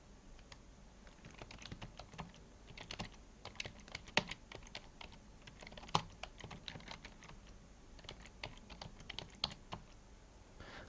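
Rapid, uneven keystrokes on a computer keyboard while a web page description is typed into a website builder, close and crisp over faint room hiss, with no talking.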